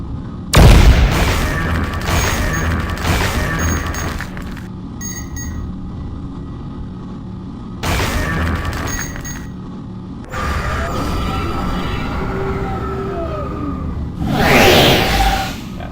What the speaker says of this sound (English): I can shoot 3 rockets.